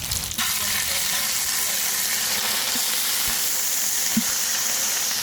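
Green chillies fry in hot oil for fish chukka, making a loud, continuous close sizzle with a few soft knocks of stirring, and nobody speaks.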